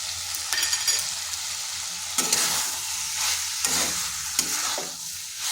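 Vegetarian pumpkin curry sizzles in a pan while being stirred and fried with a roasted spice mix, with a steady close hiss broken by repeated scraping strokes of the spoon.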